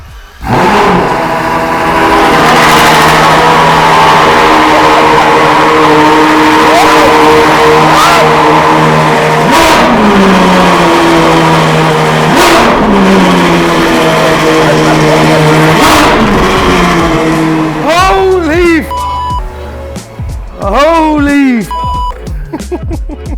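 A Ferrari 812 GTS V12 engine fires up and revs repeatedly in sharp bursts, loud and close, with rising and falling pitch sweeps and background voices.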